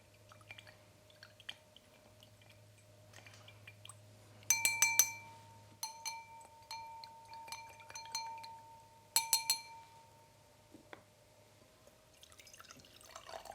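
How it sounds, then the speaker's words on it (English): A spoon clinks against a glass of tap water, with two clusters of bright ringing taps and scattered small clicks and drips over a low steady hum, quiet and close. "Give this a stir."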